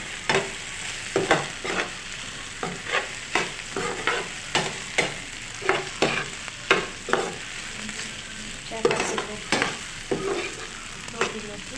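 Okra fry with chana dal is stirred in a hot pan, a steady sizzle broken by regular scraping strokes of a spoon, close and repeated roughly every second.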